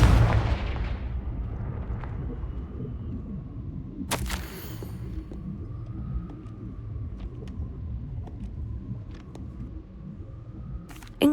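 In the Hogwarts Legacy video game, a Confringo fire spell detonates with a sharp explosive burst followed by a lingering low rumble and scattered crackles, with another sharp hit near the end.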